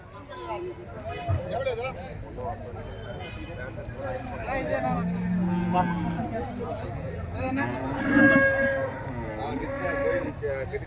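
Native cattle lowing and bleating amid a busy livestock market crowd, with steady babble of voices and people talking throughout.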